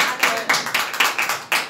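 A church congregation claps in a steady rhythm, about seven crisp waves of hand claps at regular intervals, close and fairly loud, with no talking over it.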